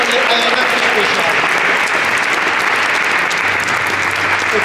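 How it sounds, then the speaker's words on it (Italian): Standing audience applauding Marcello Colasurdo at the Ambasciatore del Sorriso 2024 award ceremony in Maschio Angioino, Naples: dense, loud, continuous clapping from a large crowd, steady throughout with some voices mixed in. "Gli facciamo un applauso per tutto quello che ha fatto"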